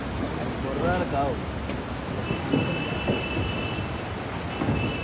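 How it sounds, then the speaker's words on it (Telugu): Rumbling vehicle traffic with a steady drone and faint squeals, while people talk nearby over the noise. "వెహికల్స్ చూసారా, ట్రాఫిక్ జాము."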